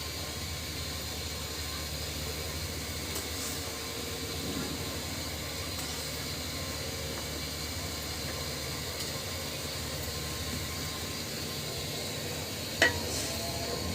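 Washed fish added to fried spice paste in a pan give a faint, steady sizzling hiss that runs throughout, with one brief click near the end.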